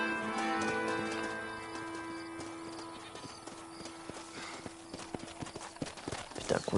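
Horse hooves clip-clop in a steady, fairly faint rhythm in the video game Red Dead Redemption, with ambient game sounds around them.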